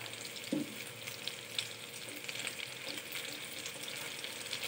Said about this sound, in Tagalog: Ipapry na natin siya. Para maluto.